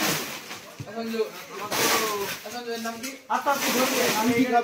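Hissing from two large cobras, sounding as a rough, breathy hiss that comes and goes beneath steady nearby talk from several people.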